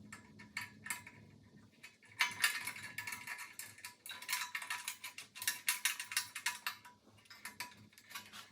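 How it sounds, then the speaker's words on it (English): A ratchet tightens a bolt on the bracket of a Coleman BT200X, producing rapid, close clicking in bursts, with faster flurries of ticks in the middle and short pauses between strokes. "and then I'm going to bolt down the bracket itself."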